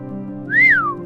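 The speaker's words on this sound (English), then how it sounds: "Holmes whistled." A single rising-then-falling whistle from a person, clear and close, lasting about half a second over a low steady hum.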